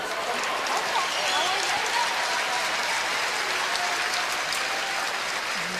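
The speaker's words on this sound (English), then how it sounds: "Crowd cheering them on." Spectators at a curling world championship match cheer and applaud, a steady dense wash of clapping and crowd noise filling the whole stretch, with voices mixed in.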